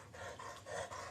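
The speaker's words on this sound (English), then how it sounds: "He likes to sit and huff at me." A chocolate Labrador huffs, giving one soft, breathy exhale close by that lasts about a second, with no voices.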